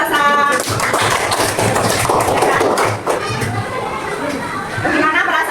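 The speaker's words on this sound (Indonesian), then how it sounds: "Tepuk tangan untuk Mbak Salsa." A class of schoolchildren claps for a guest named Mbak Salsa during a lesson about zakat, a loud, busy burst of clapping mixed with children's voices and chatter throughout.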